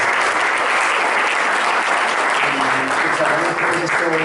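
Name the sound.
audience applauding the panelists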